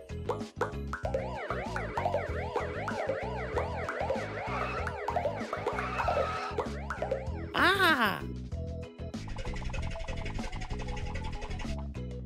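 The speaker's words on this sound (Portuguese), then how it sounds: "Uma ambulância." A rapid, warbling ambulance siren cycles up and down continuously, joined briefly by a louder swoop, then a steadier high tone with background noise.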